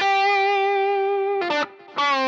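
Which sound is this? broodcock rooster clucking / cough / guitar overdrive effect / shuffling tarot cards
guitar overdrive effect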